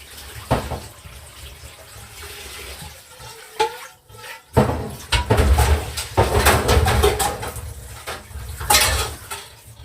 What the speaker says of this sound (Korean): 여러분 물소리 들리시죠?